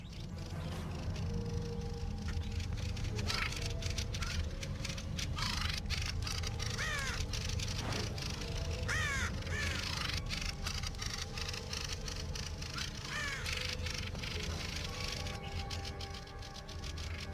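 Crow cawing harshly amid a dense, busy outdoor bird chorus as defending birds mob it, with repeated rising calls and squawks over a steady loud background of wind and calls.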